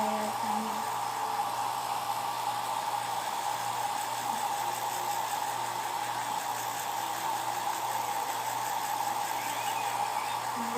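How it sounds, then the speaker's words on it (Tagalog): A hair dryer blowing continuously at close range, a steady airy roar with an even whine throughout. "Mag-dryer tayo."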